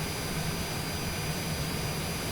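A simulated airliner taxis off the runway at Nadi, Fiji, its jet engines giving a steady, loud broadband roar with a constant high whine and no other sounds.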